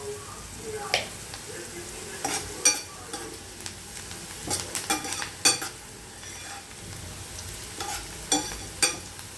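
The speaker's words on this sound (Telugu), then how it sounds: "ఇప్పుడు ఈ తాలింపులో వేసి తిప్పాలి." Drumstick leaves and onion stir-frying in a hot tempering of oil and turmeric, a steady close sizzle broken by repeated scraping stirs of a spatula across the pan.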